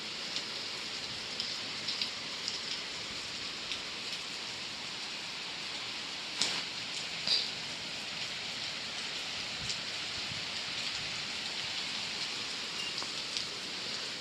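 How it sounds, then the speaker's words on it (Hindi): Steady, dense rainfall hissing continuously on surfaces outdoors, with a few louder drips and splashes standing out; no voices. "बारिश आ रही है बहुत ज़्यादा तेज।"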